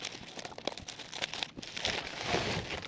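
Crinkly paper or plastic wrapping torn open around a package of vintage Parker Vacumatic pens, with a steady run of close crumpling and rustling and a few sharper crackles.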